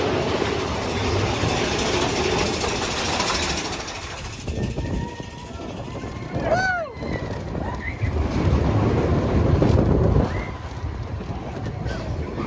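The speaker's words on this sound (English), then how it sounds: "Next up, Big Thunder Mountain Railroad." Big Thunder Mountain Railroad roller coaster train at Magic Kingdom, a loud continuous rumble and roar of the ride with wind buffeting, rising squeals and rattling, steady throughout with a brief dip midway.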